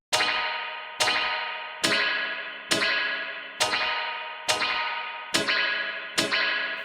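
Pulsar Primavera spring reverb plugin on a repeated guitar-like chord hit: eight evenly spaced sharp attacks, each followed by a twangy, splashy decaying tail, loud and without any talking.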